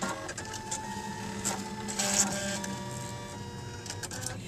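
An embroidery machine stitches yellow thread onto fleece, outlining a plush Easter egg. It gives a steady, close mechanical whirr with a rapid rhythmic needle clatter that runs unbroken throughout.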